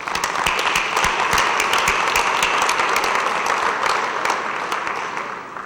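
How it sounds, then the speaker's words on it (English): At a high school football Ring of Honor ceremony, the crowd gives former players a sustained round of applause, loud dense clapping with some sharp individual claps standing out, easing slightly near the end. "I'd like to give all of them a round of applause at this time."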